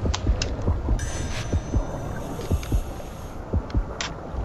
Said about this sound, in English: I think I'm hearing heartbeats.